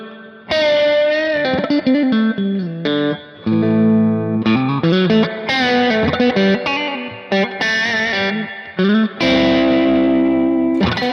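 Electric guitar played through the spring reverb effect of a Kemper Profiling Amp: distorted chords and single notes in short phrases, each ringing into a splashy reverb tail, loud and close, with brief gaps between phrases.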